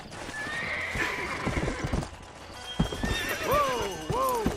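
Horse in the video game Red Dead Redemption clip-clopping along with steady hoofbeats, then giving a couple of loud, rising-and-falling neighs near the end, with someone talking over it.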